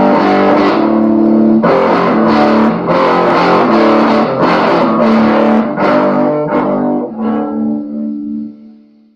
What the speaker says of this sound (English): The little amp has a distortion on it where you can play it really crisp.